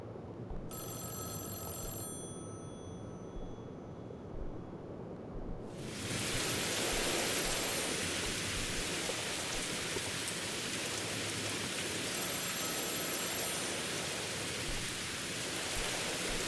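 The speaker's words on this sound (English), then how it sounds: "I hear the phone ringing." Telephone ringing in a strange video game, a bright repeating electronic ring in the opening seconds over steady rain-like noise, which then swells into a loud broad hiss alone.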